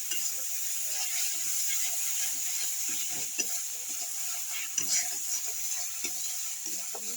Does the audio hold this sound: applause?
no